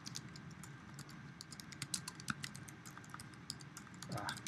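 Clicking keystrokes on a computer keyboard as an address is entered, quiet and near, scattered taps over a soft background hum, with a faint voice murmur at the end.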